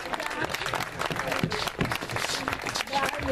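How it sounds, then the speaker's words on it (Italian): Applause and crowd noise fill a dance show audience, busy uneven clapping with voices mixed in and the level rising and falling. "ci vuole grande l'applauso"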